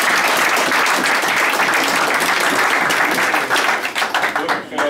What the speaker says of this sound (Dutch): En ik vraag jullie daarom ook even een applaus te geven daarvoor.